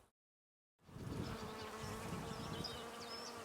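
Honey bees buzzing around two very young colonies raising a queen, a dense continuous hum of many insects close by after a brief silent start, with individual bees zipping past.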